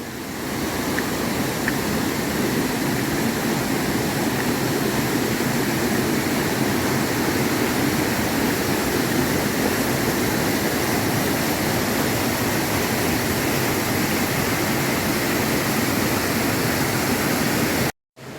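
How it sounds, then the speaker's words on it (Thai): Waterfall rushing at Than Bok Khorani in Krabi, a continuous dense roar of falling water heard from a boardwalk, loud and unbroken throughout. "ฟังเสียงน้ำตกสู้ซ่าสู้ซ่านะครับ"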